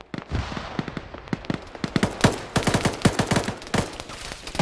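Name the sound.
gunfire from a military video game (Arma)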